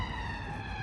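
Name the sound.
London police car siren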